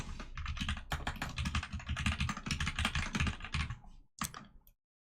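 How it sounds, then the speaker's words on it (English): Fast typing on a computer keyboard at a desk: a dense run of close clicking keystrokes for about four seconds, then a brief pause, one final keystroke, and silence. "If I type a value for email,"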